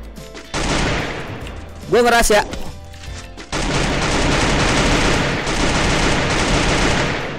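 Gunfire in a shooting video game bursts in rapid fusillades, dense and loud, broken by a short voice exclamation and pauses. It then resumes as sustained automatic fire close up, with players chatting over it.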